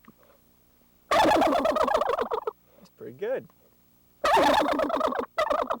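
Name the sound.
turkey gobble imitated with a diaphragm mouth call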